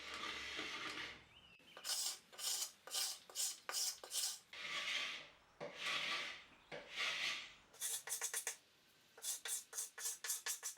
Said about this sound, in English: These smaller scrapers work well for scraping the detailed areas.